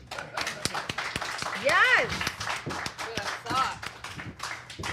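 Brisk clapping from the room at an AEW post-show media scrum in Vancouver for the Women's World Champion, with a person speaking briefly over the claps and a few high whoops mixed in.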